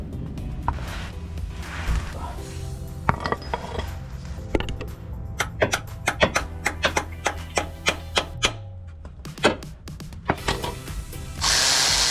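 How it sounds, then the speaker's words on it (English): Repeated sharp knocks of a hammer driving a dowel into place on a Ford Focus engine, a rapid series of blows at uneven intervals over a low mechanical hum, close and loud. "So we're just gonna have to hammer it in."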